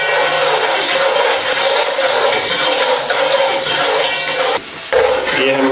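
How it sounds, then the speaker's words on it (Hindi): Onions frying in oil and being stirred in a pot for mutton yakhni pulao, a steady loud sizzle with scraping stir strokes and a brief break near the end, no talk. "प्याज को हलाते रहना ताकि ये काला ना हो जाए, ये एक जैसा रेड हो"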